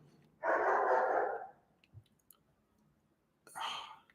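Dog barking close by, a loud bark burst followed after a quiet pause by a second shorter bark, with faint clicks in between.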